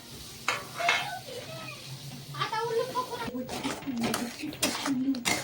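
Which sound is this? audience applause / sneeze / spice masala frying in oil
spice masala frying in oil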